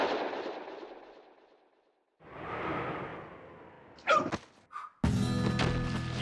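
A gunshot rings out in the 1-2 Switch quick draw mini game. A fading rumble gives way to a swell, then a couple of sharp cracks, followed by a loud burst of game sound that runs to the end.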